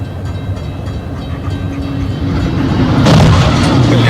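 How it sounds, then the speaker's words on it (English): Train crash footage plays as a rumbling, roaring rail-transport noise, loud and continuous, swelling into a harder, brighter burst of impact noise near the end. "I also cut together a little compilation of some crashes to lay over it"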